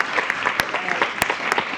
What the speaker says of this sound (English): One more round of applause for Bonnie.